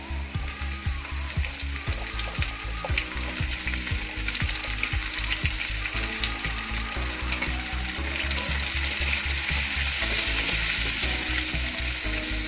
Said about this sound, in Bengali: বন্ধুরা আমার আলুগুলো মোটামুটি ভাজা হয়ে গেছে এবার আমি এর মধ্যে দিয়ে দেবো ক্যাপসিকাম